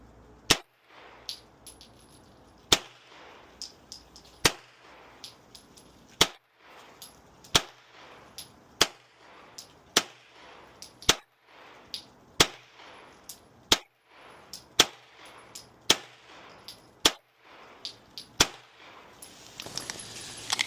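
Daniel Defense H9 pistol firing 124 grain MagTech ammunition, roughly two dozen sharp, loud shots in a quick, uneven rhythm at a range, each crack followed by a short ringing tail.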